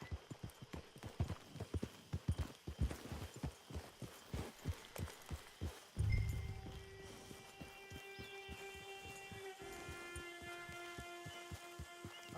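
A horse's hooves clip-clop in a quick, even rhythm close by for about six seconds, then stop as a thud and a sustained tonal hum take over.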